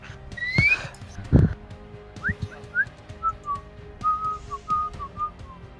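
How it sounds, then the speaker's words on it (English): Someone whistles an eerie, wavering tune, a series of thin sliding notes that rise and fall, with a few soft knocks and thumps near the start. "it's almost like a tune, and it's almost like something's laughing at you with the whistling"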